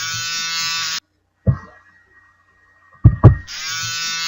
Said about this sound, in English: We'll begin by trimming the patient's hair in that area.